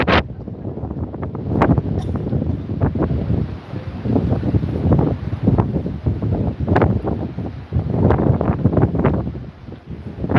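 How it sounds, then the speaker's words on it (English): Gusty wind blows outdoors along a seaside resort street in Benidorm, a steady rushing roar with repeated buffeting surges and microphone wind noise that swell and ease throughout. "The wind's picking up again."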